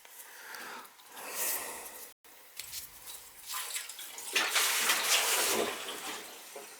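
Water rushing out through the bleeder valve of a hot water heating system as its zones are purged, an irregular gushing and hissing flow that surges louder in the second half, with one brief break.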